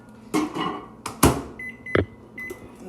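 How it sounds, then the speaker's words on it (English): Microwave oven being used to melt margarine in a container: a few sharp clunks and clicks of the door and buttons, brief electronic beeps, and a low running hum underneath, heard close up without talking. "I'm just gonna put it in the microwave and melt it"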